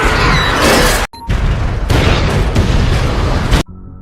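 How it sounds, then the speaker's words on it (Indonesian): Bombs going off in a house yard in the film I Am Legend, a series of heavy, roaring explosions with crashing debris, loud and close, broken by a brief sudden drop before the blasts resume and then cut out. "meledakkan bom yang berada di pekarangan rumahnya"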